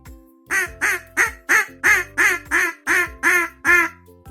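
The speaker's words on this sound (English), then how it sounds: "Duck says, "Quack quack."" A duck quacks ten times in a steady, even rhythm, each quack loud, nasal and close.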